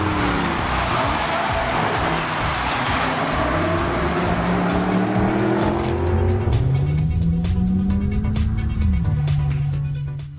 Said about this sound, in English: Now there you start to pick up a lot of that CLA 45 engine note. It's a 4-cylinder Brap.